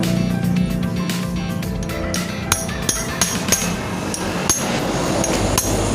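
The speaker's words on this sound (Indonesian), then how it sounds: "kita akan membuka rumah setirnya menggunakan pahat sama palung" Hammer blows drive a chisel to knock loose the steering head bearing race on a Yamaha Mio scooter, several sharp metallic strikes ringing out over a steady workshop din.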